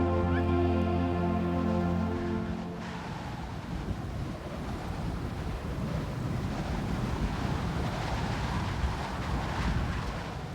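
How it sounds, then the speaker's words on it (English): Siberian blizzard wind roaring steadily across open tundra, a dense, continuous rushing howl that stays loud and full from start to finish, with a sustained musical drone at the very beginning. "shadows emerge from out of the blizzard"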